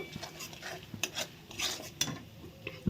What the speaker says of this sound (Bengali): মশলা ভালো করে একসঙ্গে সব কষিয়ে নেব